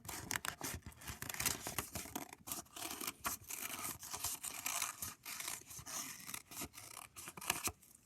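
Scissors cutting out a paper elf craft boot and mitten, a continuous run of close, crisp snipping and rustling paper with brief pauses as the cuts turn.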